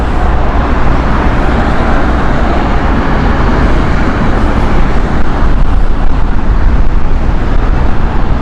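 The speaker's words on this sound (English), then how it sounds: "Next we have KLM 737-700 series." A KLM Boeing 737-700 airliner at Heathrow gives a steady, loud, broadband jet roar that holds for the whole stretch with no pauses, the engine noise staying fairly constant.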